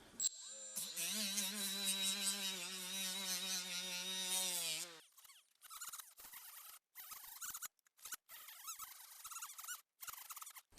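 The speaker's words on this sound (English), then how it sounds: "I'm not really sanding deep." A power tool whines with a steady high tone, then grinds in short, rough scraping bursts as rubber around a tire sidewall puncture is sanded for repair, close by.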